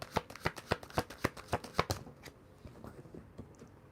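Tarot cards riffle and snap through a shuffle in a rapid, regular run of crisp close-up flicks that stop abruptly, leaving faint room noise.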